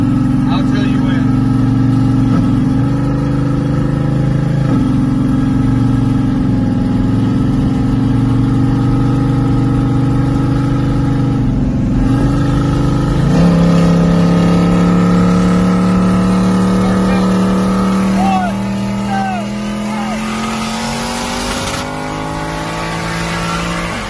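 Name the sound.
2JZGTE-engined car with GR700 turbo running and accelerating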